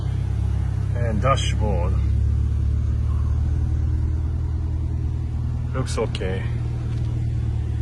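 A Subaru WRX STI Spec C RA, a Japanese-market car, idles with a steady low engine rumble throughout while someone speaks briefly over it nearby.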